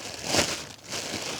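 A plastic bag with food packed inside, pulled from a survival bug-out backpack, crinkles in two short, soft rustling bursts, close and quiet, with no talking.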